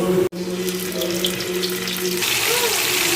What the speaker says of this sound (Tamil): எண்ணெய் காஞ்சோடனே உருளைக்கிழங்கை இதில் வந்து ஒன்று ஒன்று ஆட் பண்ண வேண்டியதான்